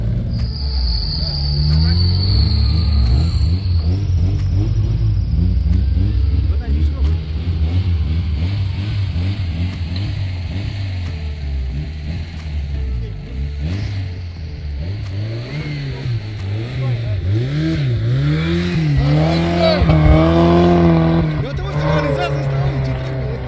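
Suzuki Samurai off-road vehicle engine idling and revving in snow, rising and falling pitch sweeps near the end, with a steady high insect-like whine above and people talking nearby.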